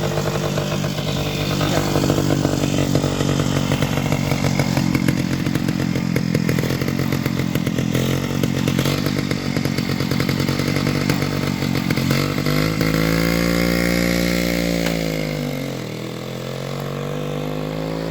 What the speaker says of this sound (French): c'est toujours un plaisir de rouler avec ces vieilles motos comme ça là